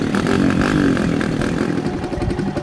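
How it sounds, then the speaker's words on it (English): Dirt bike engine at a highway airstrip, a loud, close, buzzing mid-range drone that holds steady with slight rises and wavers in pitch. "Dirt bikes, for instance, allow crew members to get from one side of the airstrip to another in seconds"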